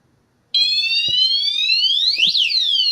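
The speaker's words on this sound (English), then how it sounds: "walk across the hallway and set off that alarm, please" A motion detector alarm in a hallway starts abruptly after a short silence, a loud, shrill electronic tone that sweeps and warbles continuously, with a couple of faint thumps beneath.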